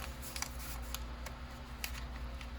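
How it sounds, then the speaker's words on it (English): Small scissors make quick, close, crisp snips through a paper journal embellishment, a handful of light cuts over a faint steady hum with no talking. "I may have to cut some of it off."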